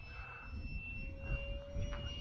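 A small Freewing Lippisch P15 mini RC jet flies overhead under a gray sky, giving a steady, faint, thin whine with a high electric tone that holds evenly for about two seconds over low wind rumble.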